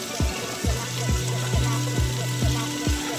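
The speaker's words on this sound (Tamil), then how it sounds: "ஆனியன் சேர்த்து நல்லா ஃப்ரை பண்ணிக்கோங்க." Onions frying in a pan while a traditional Bilavalagulu and Vankaya Gojju dish is cooked, a steady sizzle with rhythmic scraping or stirring strokes about twice per second, close and moderately loud.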